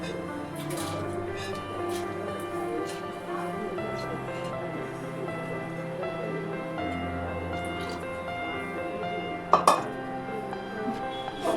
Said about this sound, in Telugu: ఈ నానబెట్టిన నీళ్ళతో సహా మనం కుక్కర్లోకి వేసుకోవాలి.